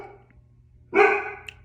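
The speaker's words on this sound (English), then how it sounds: "Sorry, it's my dog." A pet dog indoors at home lets out one sharp, loud bark close by, preceded by quiet room tone, with no talking.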